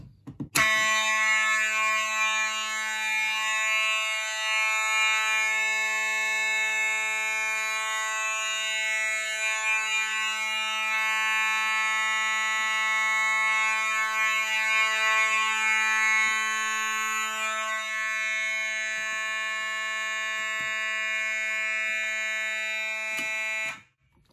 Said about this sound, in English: Go ahead and reset the pull station and the alarm will turn off.